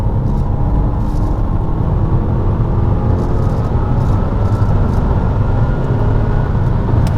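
A BMW X1 sDrive 20i M Line with a DCT gearbox, heard from inside the cabin as a loud, steady low engine drone and road rumble that holds without pause.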